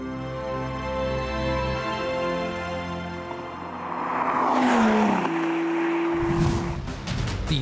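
An Aston Martin DB11 twelve-cylinder engine drones with a steady harmonic tone that rises in pitch as it revs, swelling louder and rougher before shifting down, close and continuous.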